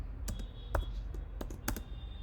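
A brief run of keyboard typing: several crisp key clicks in irregular bursts against quiet background hum.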